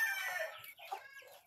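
Pet chickens on a farm clucking briefly and faintly, a few drawn-out high calls close by with no talk.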